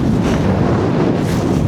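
Strong wind buffets the microphone in a loud, continuous low roar with no letup, on an exposed fell in Finnish Lapland as clouds roll over the mountains.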